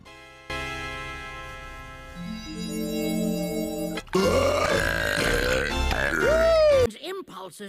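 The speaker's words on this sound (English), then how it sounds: "Cartoon Burp, the unspoken language." Exaggerated cartoon burp sound effects play one after another in a compilation, some long and drawn out with shifting pitch, others short and gurgling, loud and alone with no talking.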